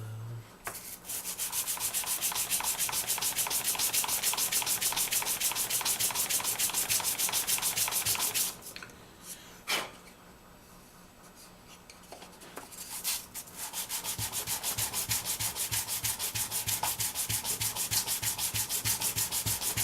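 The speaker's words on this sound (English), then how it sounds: "The benefit to sanding it on this block is I know that my block is flat" Wooden puzzle box edges rubbed on a flat sanding block in steady, close back-and-forth strokes, a continuous rasping hiss that pauses briefly midway before resuming.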